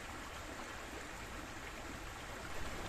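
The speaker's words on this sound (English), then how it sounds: "And down by the river here" A river in a British valley flows with a steady, broad rushing wash, faint and continuous, with no voices over it.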